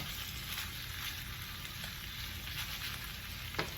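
Keto meal-prep food browning in a crowded frying pan gives a steady, close hiss and crackle of sizzling fat, with a faint utensil tap near the end and no talking.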